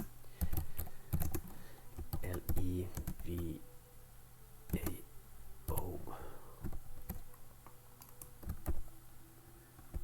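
Keystrokes on a computer keyboard as a root password is entered at a login prompt, bursts of close, crisp clicks in short irregular runs, with a person speaking between them.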